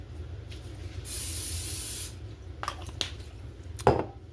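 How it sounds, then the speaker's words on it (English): Cooking spray hisses onto a skillet in one steady burst of about a second, followed by a few small clicks and a louder knock as the can or pan is handled, with no talk. "Spray down my favorite skillet."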